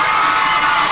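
A hockey crowd at Northfield Ice Arena roars steadily and loudly after a penalty-shot goal, full of cheering and high-pitched shouting with no break.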